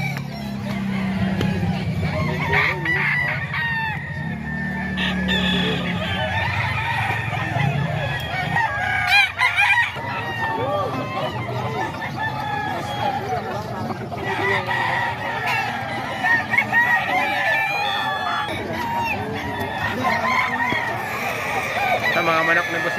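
Sweater gamefowl roosters belonging to Boss Eric at a chicken market in Bocaue crow and cluck in a busy background while someone talks over them throughout.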